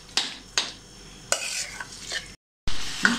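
Spoon scraping and stirring through a thick pav bhaji vegetable mixture in a pan over high flame, several distinct strokes over a soft sizzle, with a brief gap of silence near the end.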